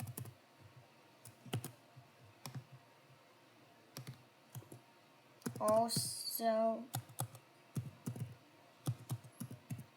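Computer keyboard typing in quick, irregular clusters of close clicks, with someone speaking briefly midway through the tapping.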